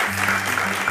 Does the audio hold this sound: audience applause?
yes